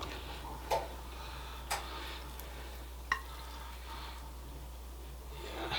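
A spoon scraping Swiss beer bread batter into a bread pan: three or four soft separate taps and clinks spaced a second or so apart over a quiet hum, with occasional faint stirring noise.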